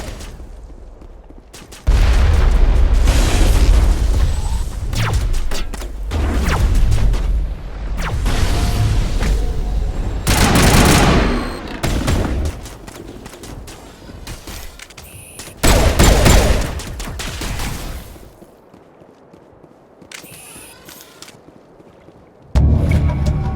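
Geth turret crossfire in the video game Mass Effect, on Virmire: loud sustained volleys of rapid weapon fire and booming impacts in long bursts, broken by brief quieter lulls.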